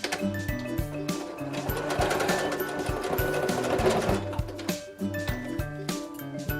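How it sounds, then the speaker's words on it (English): A sewing machine stitches back and forth to tack a sleeve hem, its rapid needle chatter running steadily up close with brief pauses and clinks. "Just go back and forth a couple times with your machine."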